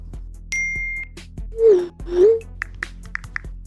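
Phone-style notification sounds from an editing sound-effects pack: a short ding with a sustained tone, two swelling chimes, then a quick run of bright clicks, crisp and close with no talking.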